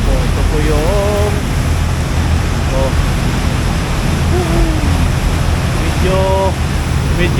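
Rough sea rushing around a fast ferry, a loud constant wash of water and wind noise while a person talks intermittently over it.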